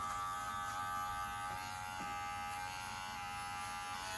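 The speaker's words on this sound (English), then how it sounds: "You want it flat so you can hear the hair cutting" Electric hair clippers buzz steadily and close up, a continuous even drone with faint cutting texture and no talking.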